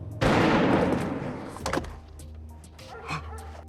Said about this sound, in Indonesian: terdengarlah suara tembakan